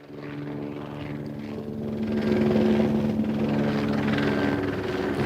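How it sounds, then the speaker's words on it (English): A helicopter's rotor thuds and engine drone grow louder and hold steady, as if the aircraft is passing close overhead. "We got a helicopter coming through"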